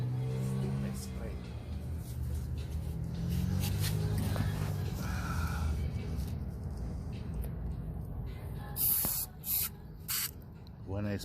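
Cleaner sprays in bursts onto the carburetor of a Yard Machine snowblower that won't start, close sharp hisses with pauses, and someone talks in between.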